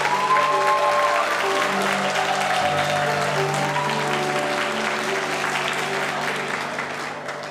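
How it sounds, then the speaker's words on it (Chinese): A church congregation claps during a Christmas baptism service to encourage those being baptized, a sustained, dense round of applause that fades gradually toward the end. "拍手来鼓励他们。"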